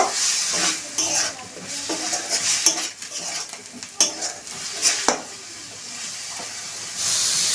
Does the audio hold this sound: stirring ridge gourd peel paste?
yes